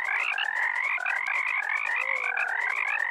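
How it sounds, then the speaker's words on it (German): Frogs croak in the WorldBox sandbox game, a rapid, overlapping chorus of bright chirping calls that repeats steadily for about three seconds with no talking. "Wichtig sind die Frösche."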